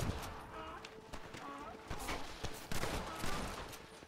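Gunfire from a Red Dead Redemption shootout: a string of sharp, loud shots at an uneven pace, mixed with hoofbeats and game sounds while players chatter over it.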